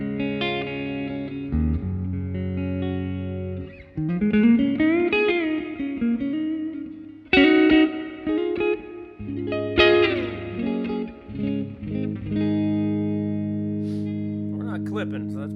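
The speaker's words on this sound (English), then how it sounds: "So I got like a twin reverb with some delay and tremolo" A clean electric guitar through a Line 6 Helix set to a Fender Twin Reverb tone plays notes and chords drenched in reverb and echoing delay, with a pulsing tremolo on sustained tones and some pauses between phrases.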